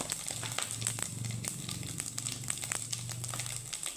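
Bay leaves and whole cumin seeds fry in hot oil, giving a quiet, steady crackle and sizzle with a faint hum underneath.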